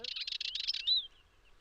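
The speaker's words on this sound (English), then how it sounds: "in the ponds and natural troughs, birds intensify their visits to ease their thirst" A summer bird near ponds and a flowing river gives a quick run of high chirps followed by a single rising whistled note, sharp and near against silence.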